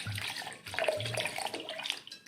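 Cold water poured into fresh cream while making homemade ghee, a steady splashing, gurgling stream close by that briefly breaks and resumes, with no talking.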